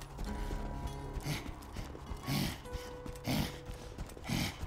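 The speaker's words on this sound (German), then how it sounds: "der grunzt aber auch wie so ein Schwein, wenn er rennt." In the Borderlands 2 video game, a creature grunts in rough, snorting bursts while running, repeating every second or so over a busy background of game sound.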